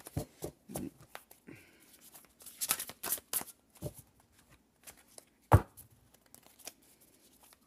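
A large, oversized deck of tarot cards is shuffled by hand at close range, giving irregular bursts of riffling, slapping and card friction separated by short pauses.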